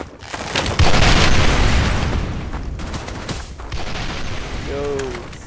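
A grenade blast in the shooter game Special Force 2 lands with a sharp loud boom followed by a long rumbling decay, with scattered gunfire-like pops and a short rising tone near the end.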